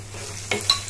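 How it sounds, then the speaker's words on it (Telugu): Spices and asafoetida fry in hot oil for pulihora, a soft steady sizzle broken by two quick stirring scrapes near the end, close and brief with no talk. "ఇప్పుడు ఇవన్నీ బాగా వేగే వరకు బాగా వేయించుకోవాలి"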